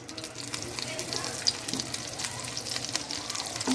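Oil and butter sizzle faintly in a pan before tandoori chicken goes in, a soft steady crackle with small spits and a murmur of voice in the background.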